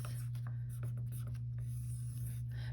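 Numbers written by hand underneath drawn base ten blocks, faint scratchy pen strokes in short bursts over a constant low electrical hum, no talking.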